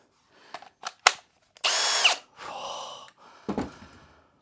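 Dyson cordless vacuum powered by an adapted power tool battery, a short whirring burst that starts and cuts off, then a second weaker run, with clicks and breathing around it.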